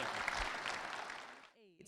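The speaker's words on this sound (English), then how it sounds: "Let's give Alan a big round of applause" A small group applauds a hunter with brief, moderately quiet clapping that fades out after about a second and a half, followed by a short voice.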